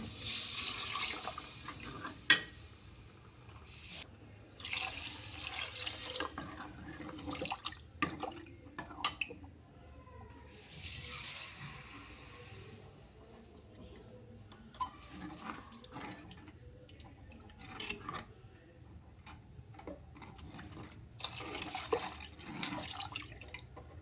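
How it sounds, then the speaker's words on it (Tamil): Water runs and splashes intermittently into a cooking pot for Kerala fish curry, several short pours and trickles separated by quieter gaps, with occasional clinks. "தேவையான அளவு தண்ணி ஊற்றிக்கலாங்க."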